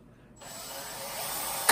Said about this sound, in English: Now I will be drilling